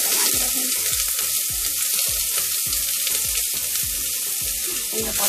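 Onions fry in hot canola oil in a pot, a loud, steady sizzle with rhythmic stirring scrapes and knocks running underneath, close up and without pause.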